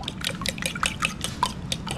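Bread dipped into water to moisten it during outdoor cooking on a beach: close, wet sloshing and dripping splashes in an irregular patter, with no talk.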